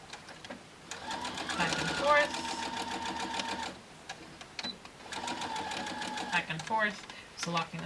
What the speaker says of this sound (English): bring it over to the sewing machine